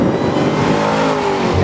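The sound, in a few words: Ford Shelby GT500 accelerating out of a corner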